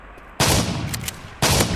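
Two loud bursts of gunfire in the mobile shooter Free Fire, each a rapid volley of shots, with a quieter stretch of game noise between them.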